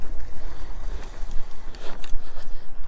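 Tire noise from a Cyrusher Ranger full-suspension fat-tire ebike ridden off-road, a loud rough rumble with pulsing low thuds and gusty buffeting, continuous throughout without talk.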